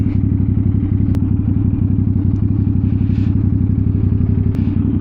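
A CFMOTO 450SR-S sport motorcycle holds a loud, steady, throbbing engine note close by, its rapid pulsing exhaust beat unbroken throughout, with a few faint ticks and clicks on top.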